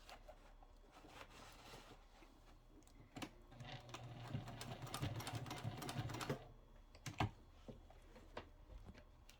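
Rapid mechanical stitching from a sewing machine basting fabric for a zippered pouch runs in short bursts, steady and close, with quieter handling clicks between runs.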